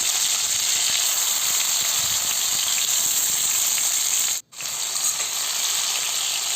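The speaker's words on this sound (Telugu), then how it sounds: "దాంట్లో ఆయిల్ వేడెక్కాక దాంట్లో వేసుకొని ఆయిల్లోని బాగా ఫ్రై చేసేసుకుందాం." Stuffed brinjals (gutti vankaya) sizzle in hot oil in a pan, a steady bright hiss that holds throughout with one brief drop to silence partway through.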